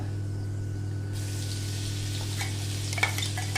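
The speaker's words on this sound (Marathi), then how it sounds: "हे निम्म वाटण आपण फोडणीमध्ये घालणार आहोत।" Ground spice paste dropped into hot tempering oil for a dry South Indian potato bhaji made without onion sizzles and crackles steadily, growing livelier partway through, with a low constant hum underneath and no talking.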